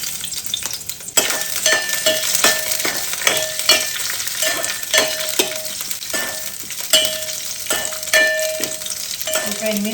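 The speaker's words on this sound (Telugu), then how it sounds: "ఆయిల్ వేసుకొని ఇది కాగిన తర్వాత 8 మిరపకాయలు తీసుకున్నాండి" Eight chillies frying in hot oil for a roasted cucumber and brinjal chutney, a loud steady sizzle broken by repeated sharp clinks and scrapes of a spoon stirring in the pan.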